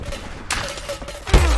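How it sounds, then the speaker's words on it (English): Gunfire bursts in Rise of the Tomb Raider's Survivor Mode, a rattle of shots around the middle and a heavy close blast near the end, with combat noise throughout. "I'm under fire!"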